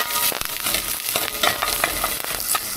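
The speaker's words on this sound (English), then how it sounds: "just fry that liquid for a couple of minutes" Chicken and sweetcorn soup liquid, thickened with corn flour, fries in a pan with a busy crackle, punctuated by sharp scrapes and clatters of stirring.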